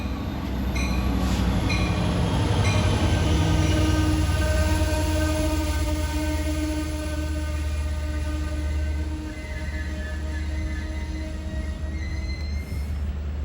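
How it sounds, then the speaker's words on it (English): A diesel-electric EMD locomotive rumbles into Bayshore station close and loud, engine droning with sustained tonal hums and wheel squeal as it slows to a stop. "engine pulling up at Bayshore train station"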